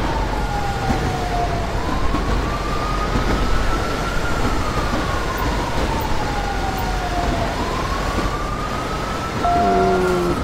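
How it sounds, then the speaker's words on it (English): A train in the LSPDFR police patrol video game rumbles past in a steady loud drone, with a long rising and falling horn or siren tone sweeping over it and a few short tonal blasts near the end. "I hear a train."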